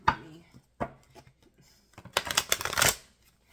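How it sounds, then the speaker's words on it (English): A tarot card deck is shuffled in quick riffling bursts, a few short rustles followed by a longer, louder flurry of cards snapping together, close to the microphone. "the way that deck just shuffled up"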